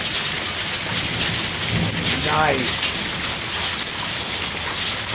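Hail and heavy rain in a thunderstorm, outdoors: a dense, steady roar of pelting precipitation close by, with a faint rumble under it and a brief spoken word.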